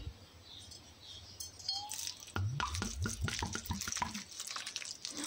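Water trickling and splashing into a mixture of dandelion petals being prepared for cramaillotte, a soft, close pour that starts faint and then grows into a steady running splash for several seconds.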